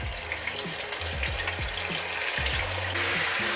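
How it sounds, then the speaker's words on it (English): A fish fillet frying in preheated oil, a dense continuous sizzle close by that swells slightly near the end, alone without talk. "So let's fry our fish fillet."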